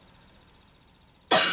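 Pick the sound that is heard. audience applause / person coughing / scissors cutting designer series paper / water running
person coughing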